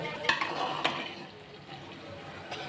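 Broken rice fries in a pan as a utensil stirs and scrapes it, giving a soft sizzle with a few sharp metallic clinks near the start and end, fairly quiet and close, with no talking.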